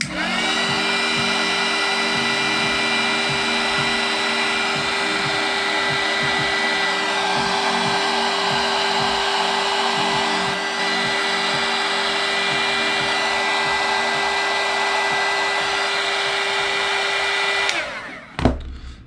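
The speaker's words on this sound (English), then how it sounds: "there's no point in not having a hot air gun in my opinion" Hot air gun blowing steadily at a workbench, a loud continuous whirring roar with a whine that holds for about eighteen seconds before it is switched off with a click and clatter.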